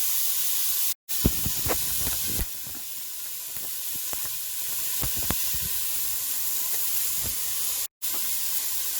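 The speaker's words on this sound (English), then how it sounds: "the meat is starting to brown" Beef pieces browning in a pot for pot roast give a steady close hiss and sizzle, broken by sharp clicks and spoon scrapes, with two brief dropouts.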